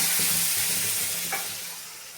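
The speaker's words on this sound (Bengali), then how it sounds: "এবার মশলাটাকে ভালো করে কষিয়ে নেব।" A ground paste of ginger, garlic, onion and tomato fries in a pan for a coconut-milk malai curry. It gives a steady, close hiss of sizzling with a faint scrape partway through, and nobody talks.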